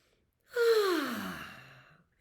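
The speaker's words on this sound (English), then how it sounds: "take a deep breath. In through your nose and out through your mouth." A single long, audible breath out after a deep inhale in through the nose, starting with a soft voiced sigh and trailing off into quiet air, close and alone.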